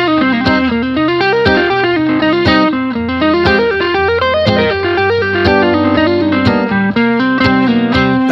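A distorted electric guitar plays a fast, continuous lead line of running notes, loud and upfront with a thick, effected tone.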